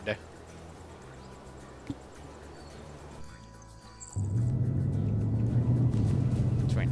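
A video game command truck's heavy engine rumbles steadily, growing louder and closer partway through, with a low droning hum and faint background noise.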